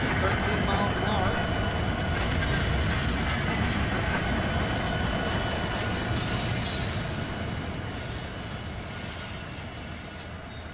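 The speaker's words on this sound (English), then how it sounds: "Watch the train go down the track here." A freight train rolls down the track at about 13 miles an hour in the Run 8 train simulator game: a steady, dense rumble of wheels with high squeal, loud at first and gradually fading.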